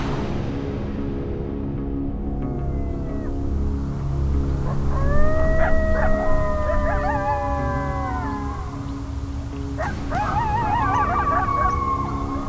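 Hunting decoy dogs used in predator control let out long, wavering howls, several voices rising and overlapping in two bursts over a steady low background rumble, with no clear barking.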